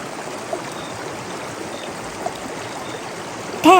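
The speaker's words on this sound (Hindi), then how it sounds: "जा इस झरने पे जाके खड़ी हो जा।" A cartoon waterfall gives off a constant, even rush of splashing water, close and fairly loud, running without pause and with no voices over it.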